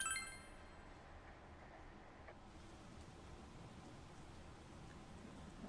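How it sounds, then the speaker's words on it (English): Rain falls outside at night in Persona 4 Golden, a soft, steady hiss of drizzle that stays faint and even after a brief louder start. "You can hear it raining outside."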